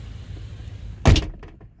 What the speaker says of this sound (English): when you close the door, there must be like a cable that is loose inside the door panel